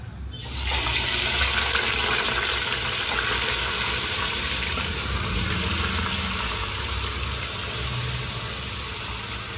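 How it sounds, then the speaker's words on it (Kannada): Water pours steadily into a cooking pot of marinated mutton for pulao, with a continuous close rushing splash that starts abruptly and keeps going without a break. "ಇವಾಗ ಇದಕ್ಕೆ ಸ್ವಲ್ಪ ಲೈಟಾಗಿ ನೀರು ಹಾಕೋಣ"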